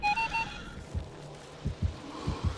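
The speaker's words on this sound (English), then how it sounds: "I don't want to hear the turret beeping" A Xenomorph turret in Dead by Daylight gives a few quick electronic beeps at the start, followed by soft low thumps; fairly quiet.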